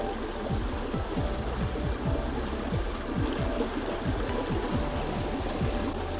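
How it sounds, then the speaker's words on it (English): Water from a stream flows under a bridge outdoors with a steady, fairly close rushing and babbling sound, low thumps recurring throughout and no voices. "I have a bridge here, I got water going under it"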